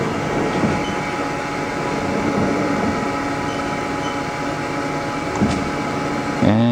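A Haas TL-2 CNC toolroom lathe rapids its Z axis, giving a loud, steady whirring machine drone with faint mechanical clicks near the end.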